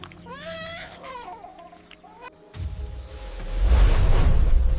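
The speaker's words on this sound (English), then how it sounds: "the calf releases a low, guttural distress call" A buffalo calf on the African savanna, surrounded by a lion pride, gives a guttural distress call: wavering, bleating cries in the first seconds, then a heavy, swelling low rumble.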